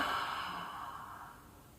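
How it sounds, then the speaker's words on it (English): A single deep abdominal in-breath, slow and steady, taken close and alone as part of a breathing exercise, fading gently over under two seconds. "So breathing in."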